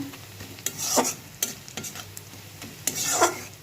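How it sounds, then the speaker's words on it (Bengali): Onions frying in a pan with satkora (Sylheti citrus) for a beef curry, stirred in several scraping bursts over a soft continuous sizzle, close and alone without talk. "পেঁয়াজটাও মোটামুটি ভাজা হয়ে গেছে"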